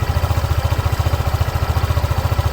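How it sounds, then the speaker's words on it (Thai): A 2021 Honda PCX 150i scooter engine idles steadily up close, its low putter pulsing in an even, rapid rhythm with no other sounds. "อันนี้เดี๋ยวผมให้ลองฟังเสียงตอนเดินเบาก่อนนะครับ"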